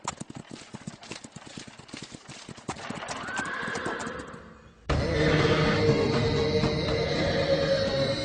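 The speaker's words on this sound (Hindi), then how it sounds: "अश्वमेध यज्ञ का घोड़ा वहाँ है, जाओ उसे यहाँ ले आओ।" Horse hooves clip-clop in a quick rhythm, then a horse neighs. A loud, dense passage of the same action follows after a sudden cut, and the sound is fairly near and has no speech over it.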